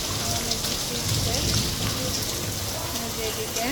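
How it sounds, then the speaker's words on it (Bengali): Heavy rain falls outside in a steady, dense wash of patter that stays even throughout, fairly loud and close, with no other distinct sounds over it. "এই যে দেখেন অনেক বৃষ্টি হচ্ছে"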